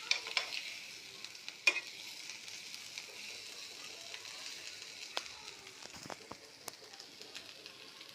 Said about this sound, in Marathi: आणि आता आपण याच्यामध्ये अंडी आणि बटाटे टाकूया आणि ते सुद्धा छान आपण कांदा टॅमॅटो आणि मसाल्यामध्ये मिक्स करून घेऊ